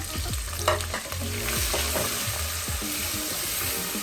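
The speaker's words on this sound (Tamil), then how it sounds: "நல்லா வெங்காயம் வேகணும்." Finely chopped onions fry with spices in a hot pan for chicken, sizzling steadily up close while a spoon stirs and scrapes in quick repeated strokes, with no voices.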